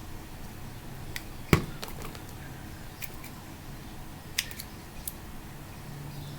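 Scissors snip through orchid roots during repotting, giving a few sharp, separate clicks spaced seconds apart against a quiet room.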